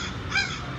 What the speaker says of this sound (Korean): 까마귀 누르면 까마귀 소리 나오고